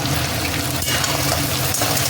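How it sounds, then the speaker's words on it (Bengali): Crabs and onions frying together in hot oil, a steady dense sizzle with a faint stir scrape near the end, continuous and close. "পেঁয়াজ আর কাঁকড়াটা ভালো করে ভেজে নেব।"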